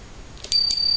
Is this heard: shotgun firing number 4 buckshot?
no